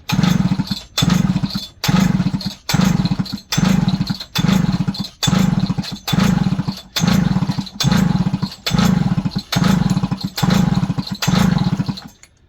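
Jonsered 630 chainsaw with the spark plug out being pull-cranked to prime the carburetor, giving about a dozen evenly spaced loud, rough chugging bursts, each ending in a brief drop, close up.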